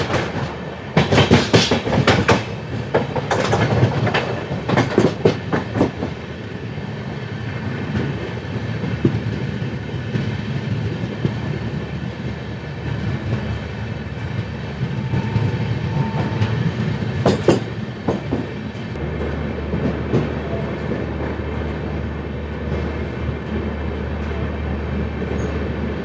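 The Goa Humsafar Express races through Mathura Junction without stopping, a loud close rumble with rapid clickety-clack bursts from the wheels over rail joints. A brief squeal rings out midway, and the roar continues steadily to the end.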